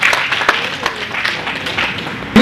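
Crowd at a blood donation camp memorial event keeps clapping in a steady, continuous wash of applause, moderately loud and unbroken for its short span.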